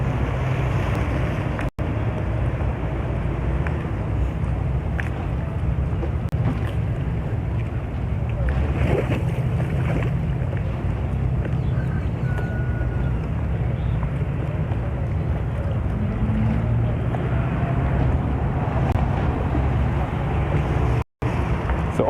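Boats heading out to sea at the start of a billfish tournament in Grenada, a continuous low engine and water rumble with wind buffeting the microphone, steady and moderately distant for the whole stretch.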